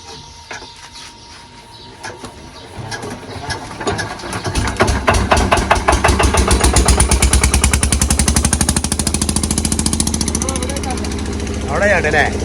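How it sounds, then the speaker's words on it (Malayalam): A motor engine used to pump water starts up with a few irregular sputters, then settles into a loud, steady, rapid chugging drone that continues to the end, heard up close. "ആദ്യം ആ മോട്ടർ ഇട്ടിട്ട് നമ്മൾ നേരെ ഇഞ്ചിൻ്റെ ഉള്ളിലേക്ക് വെള്ളമാക്കാൻ"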